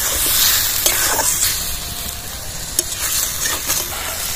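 Ginger, garlic and chili paste masala sautéing in a pan for a jackfruit curry, giving a loud, continuous sizzling hiss with occasional scraping stirs and small clicks, no talk.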